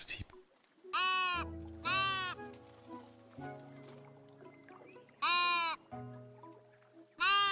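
Sheep bleating in the Tiny Glade video game, several wavering bleats in separate bursts over a low soft musical backdrop, fairly clear and close.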